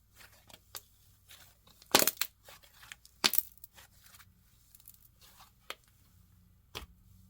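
Paper slime with a ripped-paper texture being squeezed and handled, giving scattered soft crackles and a couple of sharper crunchy bursts, close and fairly quiet.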